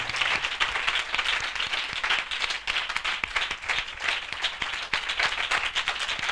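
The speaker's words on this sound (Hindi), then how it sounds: "हम जोरदार तालियों से उनका स्वागत करें" Steady, dense applause from a church assembly crowd welcoming listeners, loud and continuous throughout with no voices on top.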